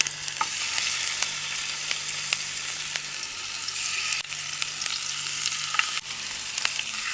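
Fish pieces frying in a little coconut oil in a pan, a steady close sizzle with occasional sharp pops and crackles, no voices.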